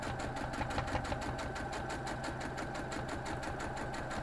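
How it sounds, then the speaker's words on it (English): A sewing machine stitches a quilt block, running steadily with a fast, even mechanical pulse, close and continuous, with no talking. "So I'm sewing this one from the back"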